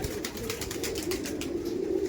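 Low, continuous cooing comes from a group of Madrasi pigeons of the Chennai breed, close and steady throughout with faint flutters, with no one talking.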